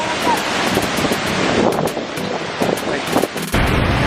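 Waterfall at Mother Falls, a loud continuous rushing roar of falling water with wind buffeting the microphone and voices faintly beneath.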